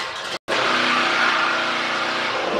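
A 1,500-watt generator engine runs steadily during a test, a close, loud, continuous motor drone after a brief silent gap at the start.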